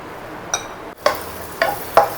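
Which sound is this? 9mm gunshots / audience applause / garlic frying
garlic frying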